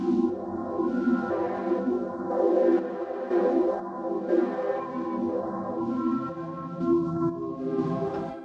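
A sustained synthesizer tone with rich harmonics, pulsing gently and washed in spacious reverb, playing alone.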